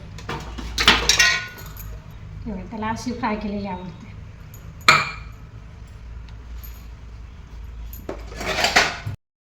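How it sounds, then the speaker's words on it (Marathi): Fried potato vegetable is scraped from a tawa into a bowl with a few sharp metallic clinks and clatters spaced apart, while someone talks between them. "सकाळी भाजी केली होती ती तव्यातली काढून ठेवूया वाटीमध्ये"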